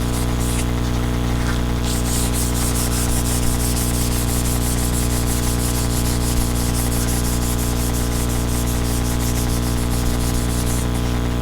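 Sanding on a Butcher Dart car body, a dense continuous abrasive hiss over a steady low hum, with fast rhythmic scraping strokes layered on top throughout.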